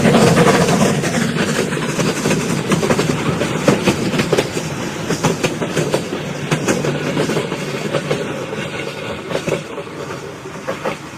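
An old steam-era train engine runs along rails with a steady rolling rumble and repeated clickety-clack beats, close and fairly loud throughout, with no talk.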